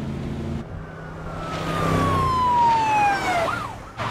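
A police siren wails close by in Grand Theft Auto V, its tone sliding down as it passes over a rumbling engine, with no talking.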